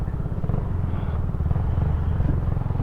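A Zontes 310V motorcycle rides through traffic while overtaking, its engine a steady, close, continuous drone with a low rhythmic pulse and no talk over it.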